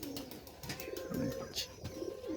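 Giribaz pigeons coo softly in short, repeated throaty phrases, nearby but quiet, with faint background noise and bits of distant talk.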